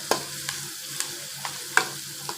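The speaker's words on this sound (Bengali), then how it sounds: "পেঁয়াজটা ভাজা হওয়ার অপেক্ষায় রইলাম" Chopped onions sizzle steadily in a pan for chicken bhuna, with a soft frying hiss and a regular series of distinct scraping stir strokes about every half second.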